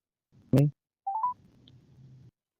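A voice imitates a ringing phone, followed by a couple of short electronic telephone tones and then a faint low hum.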